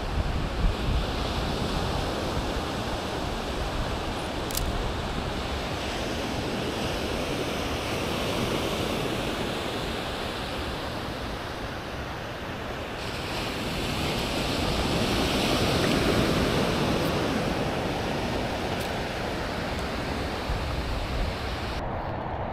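Ocean waves wash onto a California beach in gloomy weather, a broad continuous roar of surf mixed with wind buffeting the microphone, swelling slightly midway through.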